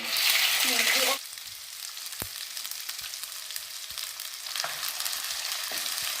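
Onion paste hitting a little oil in a wok with a loud initial hiss, which then settles into a quieter continuous sizzle and bubbling, with a few utensil taps.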